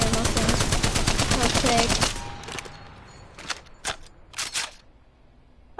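Rapid video game gunfire rattles loudly for about two seconds, then gives way to a few separate short bursts of shots against quieter background sound.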